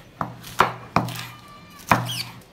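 Knife chopping hot peppers on a cutting board, four sharp close chops at uneven intervals with a short pause before the last, no talk.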